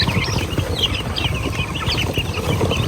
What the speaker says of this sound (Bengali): টাইগার মুরগি এগুলো? জিরো বাচ্চা।